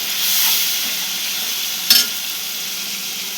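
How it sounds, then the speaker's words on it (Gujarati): A hot tempering of spices in oil is poured into cooked dal, giving a bright hissing sizzle. A single sharp clink from a pot or spoon cuts through partway, and no one speaks. "હવે વઘાર કરીને એમાં નાખી દઈશ."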